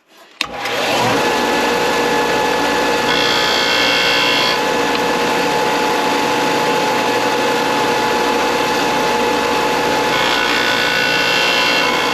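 A Ford Model A engine valve, held in a V-block and turned by hand, is ground against a belt sander's running sandpaper belt, giving a loud, steady whirring and grinding that starts abruptly and continues without a break.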